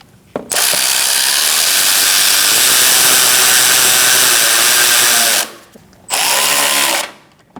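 A power tool tightens fasteners on a windshield washer reservoir of a 2016-2019 Chevrolet Cruze, one loud, close whirring run lasting about five seconds, then a shorter second burst after a brief pause.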